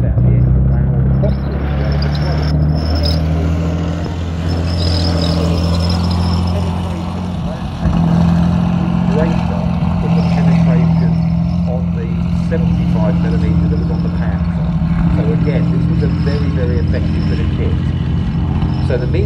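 A heavy tank engine, a Comet, rumbles and idles steadily in the background at a tank museum, low and droning, with someone talking over it.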